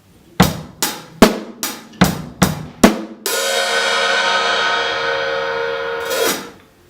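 Drum kit plays one bar of a beat with open hi-hats: seven sharp, evenly spaced hits, then a long, bright, washy cymbal ring that holds for about three seconds before it is choked, close and clear with no talk.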